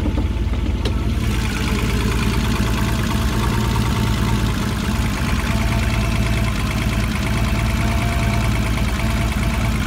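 A VW Golf 3 VR6 Turbo idles steadily while warming up, a close, loud, continuous engine drone with a rattling, knocking texture and a leaky exhaust, held without throttle and with no talk over it.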